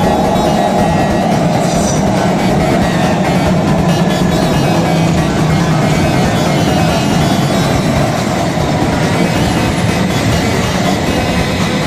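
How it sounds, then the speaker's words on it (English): A London Underground Circle line train runs at speed between stations via Farringdon, a loud, steady rumble and roar with rattling wheels and faint squeals throughout, no voices. "on this Barbican train, well not Barbican train, it's a circle line and it's going via Farringdon"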